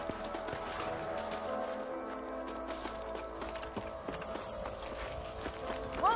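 Steady clip-clop of horse hooves trotting along in Red Dead Redemption over a constant ambient music bed, moderately loud and rhythmic throughout.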